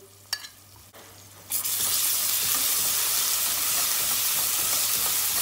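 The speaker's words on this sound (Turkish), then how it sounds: "Yine en kısık derecede domates salçasıyla biber salçasını bir kavuracağız." Tomato paste and pepper paste fry with tarhana over the lowest heat: a couple of quiet knocks, then a sudden, loud, continuous sizzle that stays steady and close with no voices.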